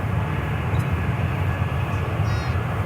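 A Boeing 737-800 airliner at DFW Airport gives a continuous, broad jet-engine roar, steady and fairly loud, heard from outdoors.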